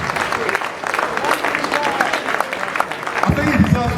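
An audience applauds after an inaugural university lecture, with a dense, steady patter of clapping throughout. A voice speaks over it, and the clapping swells near the end.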